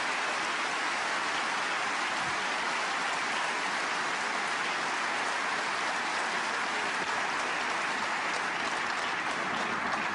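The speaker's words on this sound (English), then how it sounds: "The applause is for a 1-3-2 break from Ryan Day as he moves 3-1." Audience applause at a professional snooker tournament, a dense steady wash of clapping filling the hall throughout, sustained and even like heavy rain with no voices over it.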